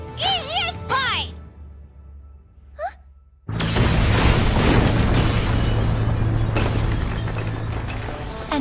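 Anime explosion in Seven Deadly Sins: after short voiced cries and a pause, a sudden loud blast hits and roars on as a sustained rushing boom to the end.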